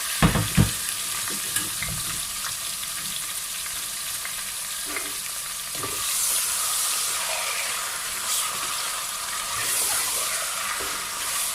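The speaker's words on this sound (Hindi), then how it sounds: "जब आप इनको अदरक लहसुन के पेस्ट में और प्याज में फ्राई करेंगे" Chicken legs frying in ginger garlic paste with onion, a steady dense sizzle and hiss in a pan with occasional stirring knocks, close and continuous, with no one speaking.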